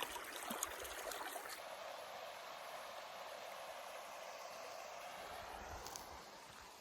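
Steady broadband rush of a stream flowing in the wilderness of Finnish Lapland, continuous and even throughout, with no voices over it.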